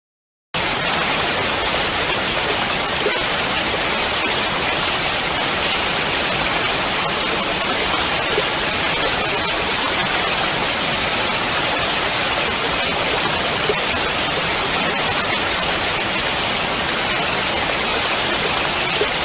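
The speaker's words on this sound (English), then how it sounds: "about 12 smaller waterfalls are situated behind and to the sides of Kegon Falls" Kegon Falls, a waterfall backed by many smaller cascades leaking from cracks between mountain and lava flows, sends out a steady, dense roar of falling water, loud and unbroken throughout with no voices.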